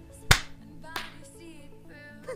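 A single sharp hand clap from a small group on a count of three, loud and abrupt, followed by a second softer clap about half a second later in an otherwise quiet room.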